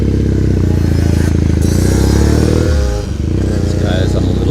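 A small two-stroke Yamaha motorcycle passes close by in Tokyo traffic, its loud buzzing engine and revving swelling and then dropping away as it goes past amid the rider's own engine noise.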